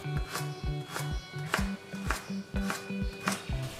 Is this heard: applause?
no